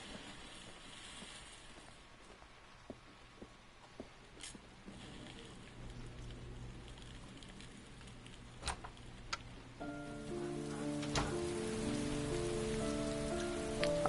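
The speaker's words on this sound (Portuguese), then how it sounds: "Ai, tá chovendo." Steady rain patters throughout the PS4 game Heavy Rain, a dense, even hiss of drops with scattered sharper ticks, joined in the last few seconds by a sustained tonal musical layer.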